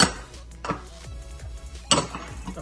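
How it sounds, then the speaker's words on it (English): A fork clinks and scrapes in a bowl while salt is mixed into curry goat patty filling, with a few sharp taps and scraping strokes up close. "Now I'm just gonna use a spoon to mix this in."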